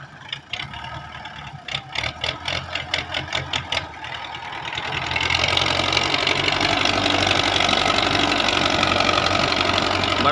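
A tractor engine works mud for brick making, first thumping in a rapid knocking rhythm, then rising into a loud, continuous mechanical roar that holds steady to the end.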